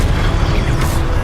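In Hogwarts Legacy, casting the Incendio fire spell produces a loud, steady, rushing roar with a heavy low rumble. It holds evenly throughout, and a brighter flare swells near the end.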